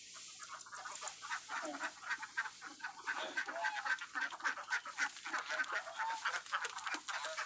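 Farm ducks quacking and calling repeatedly at close range, a busy overlapping chorus of bird voices that continues throughout with no talking.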